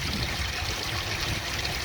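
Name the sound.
water pouring from a 4-inch pond return pipe into a sieve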